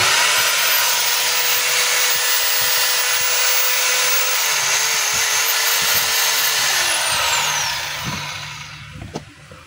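DeWalt D25033 rotary hammer running continuously during a test, a loud steady motor whine that holds for about eight seconds and then winds down.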